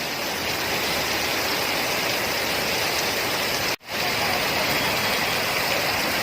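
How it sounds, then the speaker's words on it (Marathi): Dense, steady unseasonal rain with hail pours down on a busy Mumbai street in a constant hiss, heavy and unbroken, with a brief moment where the sound cuts out. "पाऊस खूप म्हणजे खूपच जोर आहे"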